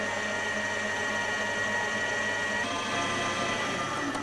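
An electric mixer on high beats chocolate cupcake batter, giving a steady, continuous motor whir close by that holds level for about four seconds, with no talking.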